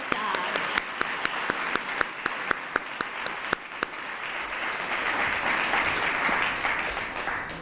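An audience at an Optimist Club oratorical program applauds the student speakers, a dense, sustained wash of clapping with a few sharp, close individual claps standing out early, building slightly louder toward the end.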